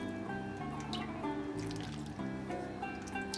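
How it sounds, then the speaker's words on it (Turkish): Sauce is poured generously over İzmir köfte meatballs in a baking tray, producing a quiet liquid trickle and dripping under a steady tonal background hum. "Böyle köftelerimizin üzerine bol bol döküyoruz"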